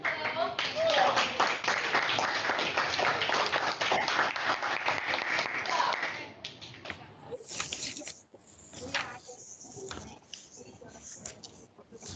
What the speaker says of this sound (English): Yes, okay, clap your hands.